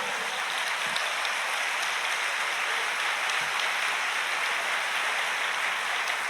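A church congregation applauding, a steady, dense wash of clapping that fills the whole stretch at an even loudness with no voices over it.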